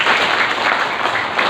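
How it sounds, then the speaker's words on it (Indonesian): An audience applauds a professor at an Indonesian gathering, a dense, even wash of clapping that holds steady throughout, close and fairly loud with no speech over it. "Tepuk tangan untuk beliau sekali lagi."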